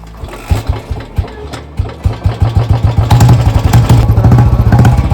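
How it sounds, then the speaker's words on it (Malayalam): A Royal Enfield Bullet motorcycle engine turns over in a few sputtering bursts, then catches into a loud, close, rhythmic thumping idle. "ബുള്ളറ്റിന്റെ സൗണ്ട് പേടിയാ"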